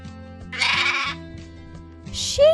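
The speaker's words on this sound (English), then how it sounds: "Sheep make that sound." A sheep bleats twice, a wavering cry near the start and a shorter one at the end, clear and close over a soft repeating music bed.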